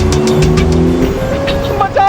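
A driverless car in a haunted-car TV drama roars close by, its engine loud and revving with tire squeal, while a voice speaks over it.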